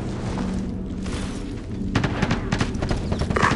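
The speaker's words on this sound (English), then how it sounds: "I'm taking fire!" Gunfire in the tactical shooter Ghost Recon Advanced Warfighter, deep booming reports and thuds that turn into a denser burst of shots in the second half, loud and close, with no speech.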